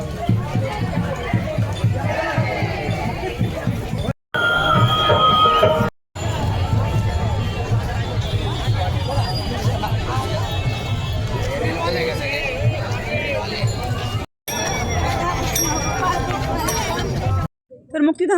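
A crowd of pilgrims and onlookers throngs a palanquin procession in Nashik, a loud, continuous babble of many voices and bustle, close by, broken by a few abrupt cuts.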